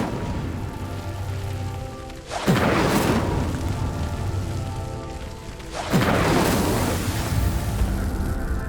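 Two loud whooshing fire blasts from the Incendio spell in Hogwarts Legacy, each a sudden roaring burst that crackles and fades, spaced a few seconds apart over a low game-music bed.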